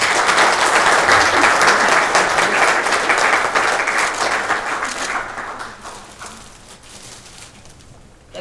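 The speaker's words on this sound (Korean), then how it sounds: "큰 박수 부탁드립니다." An audience at an award ceremony for an organizing committee general meeting applauds loudly at first, then the clapping thins and fades out over several seconds, with no talk.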